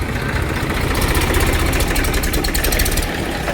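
Tractor engine idling and running after a hydraulic repair, a steady, loud mechanical drone with a low rumble, continuous throughout without speech.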